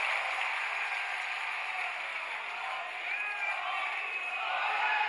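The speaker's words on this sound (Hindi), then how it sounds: "पुनः माननीय प्रधानमंत्री जी को एक बार जोरदार तालियों के साथ स्वागत और अभिनंदन।" A large crowd applauds and cheers to welcome the Prime Minister at a Lok Sabha election rally in Churu, a steady, dense wash of clapping and voices held at an even level throughout.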